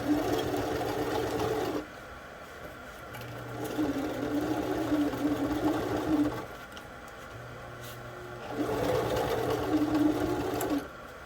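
A domestic sewing machine stitches through thick fabric for a bag project, running in three bursts with pauses between, steady whirring and needle chatter up close, with a faint low hum continuing through the gaps.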